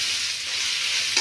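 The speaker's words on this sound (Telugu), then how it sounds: "ఇప్పుడు క్యారెట్ 1 కప్పు తురిమి పెట్టుకొని వేసేసుకున్నా." Grated carrot frying in a pan with curry leaves, a steady close sizzle with stirring scrapes throughout, brief and uninterrupted.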